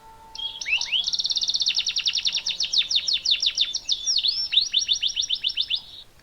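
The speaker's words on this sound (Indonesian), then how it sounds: "seperti kicauan burung" A bird sings a rapid, continuous series of bright chirps and trills, close and clear, with no other sounds around it.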